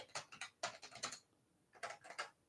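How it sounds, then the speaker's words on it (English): Rapid typing on a computer keyboard, two dense bursts of quick key clicks, a short pause, then another burst, close and fairly quiet with no talking. "I'm typing too freaking quickly."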